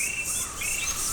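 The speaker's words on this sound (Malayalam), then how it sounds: "ചീവീടുകളുടെ ശബ്ദം," Forest ambience in which a steady, high insect drone, cicadas or crickets, blends with scattered bird chirps and calls, continuous and fairly even throughout with no voices.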